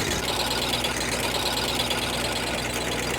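A tractor-driven potato digger lifts potato hills in a field, pulling the roots along. Its engine gives a steady, loud, rumbling drone with a rough knocking texture that holds evenly throughout, with no voices.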